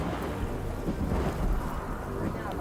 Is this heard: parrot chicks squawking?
no